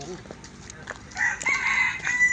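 A rooster crows once, fairly close, its strained call rising and holding for about a second over quiet background sounds.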